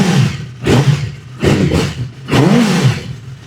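A liter-class motorcycle engine revving in three loud, close throttle bursts, each rising and falling with short idling gaps between them.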